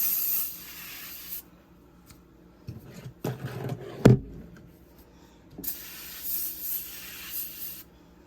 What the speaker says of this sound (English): Use a non-abrasive spray like window cleaner.